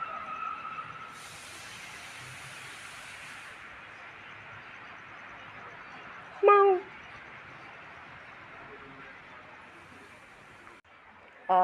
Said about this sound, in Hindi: बहुत छोटी सी बिल्ली आई हुई